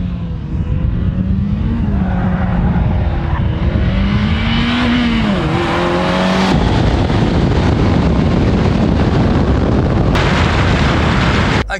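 A car on flat tyres accelerates hard down a drag strip toward 100 mph, its engine roaring loudly and continuously with a rising pitch and an abrupt gear change, alone and up close.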